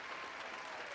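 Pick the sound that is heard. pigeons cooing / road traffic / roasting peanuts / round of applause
round of applause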